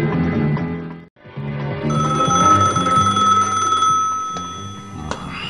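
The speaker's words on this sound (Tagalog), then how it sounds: "Telepono." A telephone rings with a steady electronic tone, loud and close, over a busy background of music or ambient sound, with a brief pause near the start.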